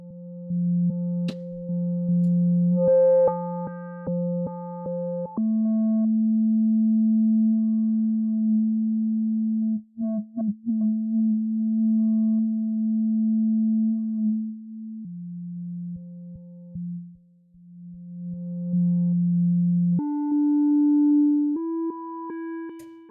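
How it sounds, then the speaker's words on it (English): A series of pure, steady sine wave tones from an Arturia MicroFreak synthesizer, each held for several seconds before stepping to a new pitch, with brief glitchy blips partway through. "we're working with a sine wave"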